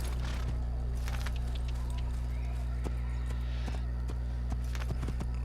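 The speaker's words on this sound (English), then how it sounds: "time for some horse riding" Horse hooves clip-clop at a riding pace in Assassin's Creed, a steady series of soft thuds over a constant low game hum, with no talking.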